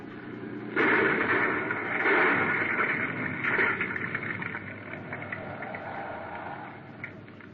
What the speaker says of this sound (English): Kill the motor.